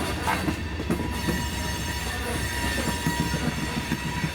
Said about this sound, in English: the grinding of the wheels against the rails